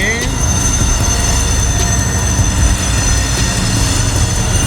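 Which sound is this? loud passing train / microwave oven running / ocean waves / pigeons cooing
loud passing train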